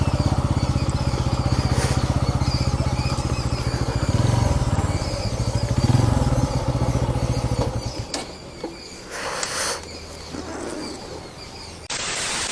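Pulsar N160 motorcycle engine idles steadily close by, then shuts off as it is parked, leaving faint background noise and a few small clicks.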